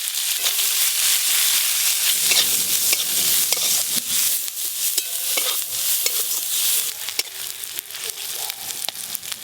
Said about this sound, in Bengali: পটল ভর্তার জন্য গোটা জিরে আর কাঁচা পেঁয়াজ ভালো করে ভেজে নিয়েছি